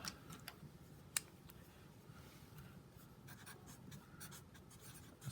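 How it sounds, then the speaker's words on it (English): Pen or pencil writing on paper, soft scratchy strokes and light taps in irregular short bursts, close and very quiet, with no speech. "Let me just write these down."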